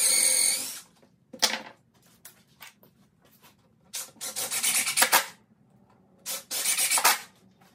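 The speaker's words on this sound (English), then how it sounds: "then I'll just put a couple screws in from either side" Screws are driven into 2x4 lumber while building an official-size corn hole board set. Three separate bursts of grinding sound up close, with quiet gaps between them.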